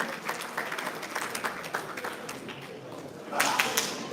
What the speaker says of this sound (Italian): facciamo un applauso ai due atleti, Luca Bucomoscolo e Oreste Catania.